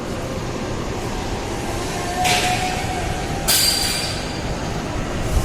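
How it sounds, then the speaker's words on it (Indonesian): Mutiara Timur night passenger train, number 185, at Ketapang station: a steady, close rumble of rail cars with brief high wheel squeals and hissing bursts, no talk. "Ini dia kereta yang membawa kita tadi, Mutiara Timur malam, dengan nomor kereta 185"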